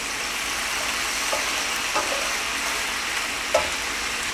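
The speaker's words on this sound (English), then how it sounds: "Cooking up in this butter and olive oil." Food frying in a pan of butter and olive oil, a steady dense sizzle with faint stirring clicks, close and continuous with no talk.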